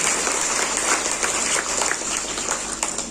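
An audience at a tax consultants and practitioners' Onam celebration gives sustained applause, a dense steady wash of many hands clapping at close range with no talk.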